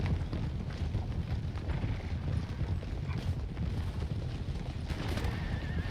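Galloping cavalry charge in Empire Total War, massed horses thundering in a dense, continuous rumble of hoofbeats with occasional neighs over battle din, steady and loud throughout.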